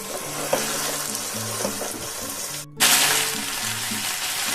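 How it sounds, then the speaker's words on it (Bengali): Raw rice grains being fried in a little oil for pulao, a loud continuous sizzle with brief stirring scrapes, a short break near the middle, then a brighter, louder hiss. "চালটাকে একটুখানি হালকা দু মিনিট ভেজে নেব"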